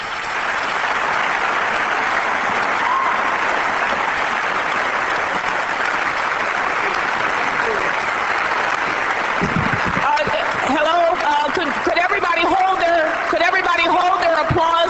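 Audience at a university event applauds after a speech, a dense sustained roar of clapping that holds steady and loud, with a voice starting to speak over it near the end.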